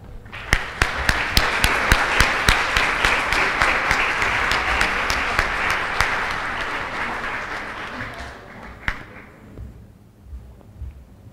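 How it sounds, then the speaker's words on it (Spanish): Loud, dense applause from a conference audience, sustained for several seconds before thinning into a few scattered claps and fading out. "la despedimos con un fuerte aplauso"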